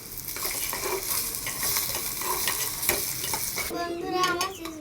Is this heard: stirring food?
yes